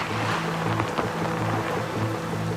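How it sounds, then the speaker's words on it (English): Torrential thunderstorm rain on a Tuvalu island, a dense steady hiss and patter with low rumbling underneath, loud and unbroken throughout, with no voices. "Today, torrential thunderstorms, freshwater flooding."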